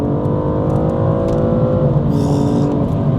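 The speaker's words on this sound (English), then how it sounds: "I really like the sound of this N55 and how it feels on the road." A BMW M235i with the N55 turbocharged straight-six accelerates on the road, its engine note loud, steady and continuous with harmonic drone rising in pitch over about three seconds, no talking.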